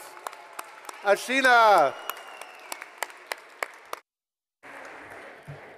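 Scattered individual claps ring out at a climate justice plenary panel, with a brief voice partway through, a moment of silence, and then a soft wash of room noise.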